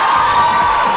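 A studio audience on a morning talk show cheers and shouts in a dense, continuous crowd roar, close and loud for a brief moment with no talk over it.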